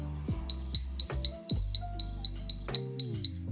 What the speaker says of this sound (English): the ringing sound it makes when it reaches 0 is loud enough that I can hear it over music